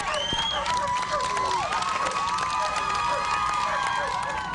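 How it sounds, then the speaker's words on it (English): Bystanders outside a courthouse applaud and cheer after a guilty verdict in a murder trial, a loud continuous crowd roar with shouts, whistles and clapping, heard from close within the crowd. "Listen to all that applause and cheering."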